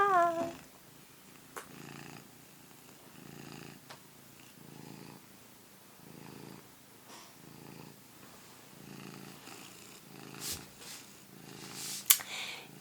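A cat purring close by in soft, rhythmic pulses of rumbling, with a couple of brief faint noises near the end and no talking.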